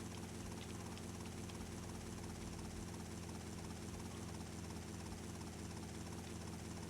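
Helicopter in the video game GTA Vice City with the Vice Cry 1.7 mod, a steady, dense rotor and engine drone that fills the whole stretch evenly and stays close and constant, with no talk.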